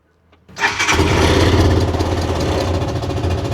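After a brief quiet moment a tuktuk engine cranks and catches, then runs with a rough, rattling idle that carries fast ticking over the motor.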